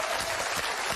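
Dense, steady applause from a large TV studio audience at a game show, continuous clapping with no pauses and no voices standing out.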